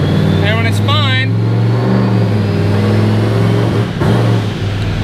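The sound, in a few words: 2003 Mustang 4.6L turbo engine running and hesitating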